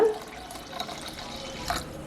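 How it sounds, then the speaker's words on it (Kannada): Water poured over rinsed thick flattened rice in a bowl until it is covered, a quiet steady trickle with small splashy bursts, no talk. "ಮುಳುಗೋಷ್ಟು ನೀರು ಹಾಕೋಣ"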